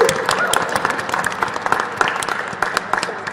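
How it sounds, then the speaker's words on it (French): An audience applauding at an environmental talk event in Paris, loud and close, with dense clapping and scattered crisp individual claps, plus faint crowd murmur beneath. "On peut vous applaudir"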